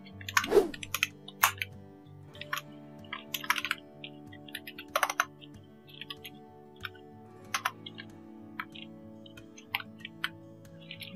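Typing in Notepad on a Windows PC computer keyboard: close, irregular key clicks in short bursts with gaps, a few louder keystrokes standing out, low hum underneath.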